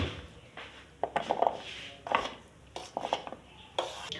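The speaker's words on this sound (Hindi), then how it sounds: "खूबसूरत से प्लेटर में डिश आउट।" A spoon scrapes and clinks against a dish as chickpea chaat is served onto a platter. Irregular bursts of metal-on-ceramic knocks and scrapes come close and clear, with no talking.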